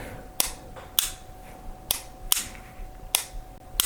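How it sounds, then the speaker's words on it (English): A Perun V3 clicker trigger, installed loose in an airsoft AEG, snaps against its magnet in six sharp, crisp clicks at uneven intervals, close up with a faint hum behind. "every time you pull the trigger, it'll snap that component upward and back when you let off due to the magnet"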